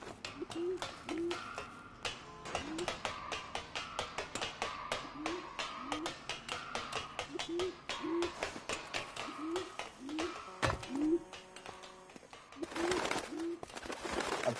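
A pigeon in the video game L.A. Noire coos over and over in soft, low, evenly spaced calls, set against a steady bed of sharp clicks and background game noise.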